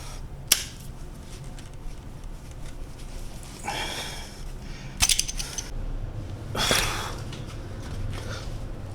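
A tool works at a stripped, seized bolt on a Mini Cooper S during engine removal, giving scattered metallic clicks, scrapes and a few short grinding bursts over a quiet, steady background.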